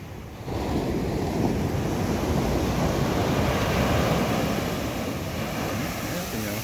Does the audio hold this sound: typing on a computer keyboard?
no